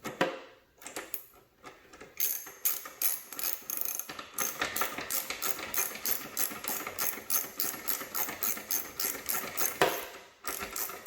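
Ratchet wrench clicking as screws are tightened on a luggage rack for a Kawasaki Vulcan S 650 motorcycle, rapid rhythmic bursts of pawl clicks, close and steady, with short pauses between strokes.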